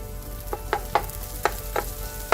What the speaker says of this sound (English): Increasing the heat, adding a little bit of oil to it, the tomatoes.